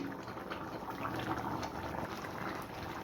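A pan of mixed dal, including rajma, cooks with a goat head in a soft, low bubbling simmer. It is faint and steady for a few seconds with no talking.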